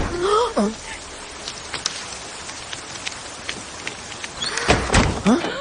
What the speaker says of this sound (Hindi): अरे हम भी बारिश में भीग रहे हैं।